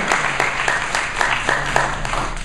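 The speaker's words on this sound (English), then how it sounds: "Give yourself a round of applause." Audience applause at a school enrichment program event, a steady patter of many hands clapping with distinct claps standing out, filling the space continuously at moderate loudness.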